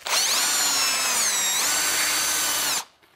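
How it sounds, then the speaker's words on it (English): A loud power drill whirs steadily at high speed, spinning a wood dowel being sanded, then abruptly stops and winds down. "you put it back in the drill"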